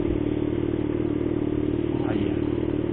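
Motorcycles riding through rainy streets in Aracaju, with a steady droning engine hum and road noise that stays constant and close throughout.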